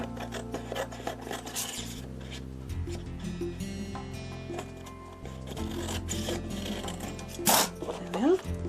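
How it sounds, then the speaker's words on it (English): A bookmark card is trimmed with a short scraping, rasping cut through the paper, heard close up under steady background music, with a brief sharper rasp near the end. "I will trim it from the other side"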